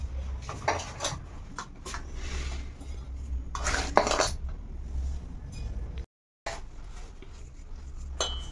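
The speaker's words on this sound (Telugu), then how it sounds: "ఓకే. ఇప్పుడు ఇది మిక్స్ చేస్తున్నా." Urad flour and jaggery powder being mixed by hand in a bowl for Sankranti sweet balls, with repeated clinks and scrapes of the bowl and utensils close by; no one speaks.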